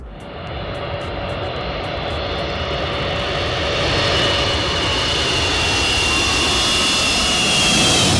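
Antonov An-225 Mriya jet aircraft landing, a loud, sustained roar of jet engines with a rising whine that grows steadily stronger and nearer, with no talk.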